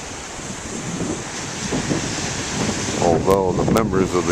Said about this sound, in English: the waves are really disappointing